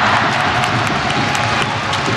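Football stadium crowd at a Suwon versus Jeonbuk match, cheering and clapping loudly in a steady, dense roar that fills the space without a break.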